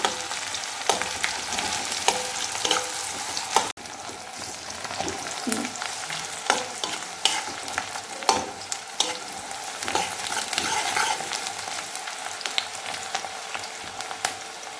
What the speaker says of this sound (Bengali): পেঁয়াজ দিলাম। পেঁয়াজটা একটু লাল করে নেব।